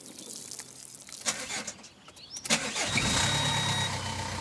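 A car that has just come back from the garage cranks over in short bursts and catches, then settles into a steady idle, heard fairly quietly and without talk.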